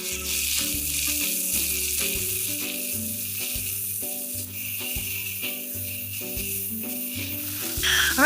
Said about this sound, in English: To finish, add chili oil.